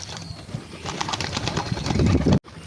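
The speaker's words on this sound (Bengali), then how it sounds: "এই মাথায় সাদা কালো পায়রাটা আমার খুব পুরনো পায়রা" Black-and-white headed pet pigeon cooing up close, soft throaty coos repeating over a busy background of other birds, ending in an abrupt cutoff.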